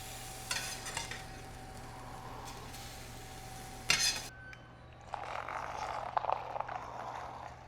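Eggs frying in a pan, a faint sizzle under light stirring and scraping, with a clatter partway through and a fuller hiss rising toward the end.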